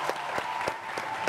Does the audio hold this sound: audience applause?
yes